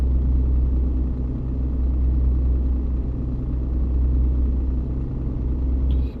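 A heavy truck engine in On The Road Truck Simulator labours uphill with a steady low, droning rumble. It is loud and constant and cuts off abruptly at the very end.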